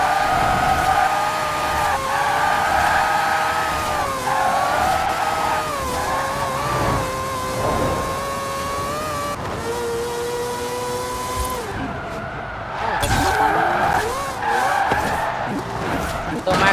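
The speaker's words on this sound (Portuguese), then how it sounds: "Não, tô fazendo drift." Tires squeal continuously as a car drifts in Forza Horizon 4, the pitch wavering with each slide over a steady engine drone, loud and close, with a person talking over it.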